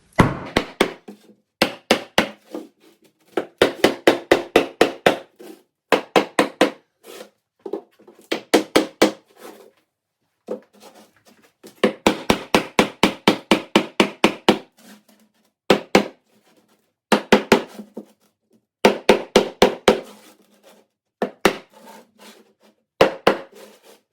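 A hammer knocks a wooden floor joist into place with rapid bursts of solid, close thuds, clusters of quick blows broken by short pauses, loud and dry, with no voices.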